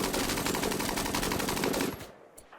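Rapid, dense gunfire from guns in the video game Rimworld: a loud continuous burst of automatic shots that stops abruptly near the end, leaving a faint tail.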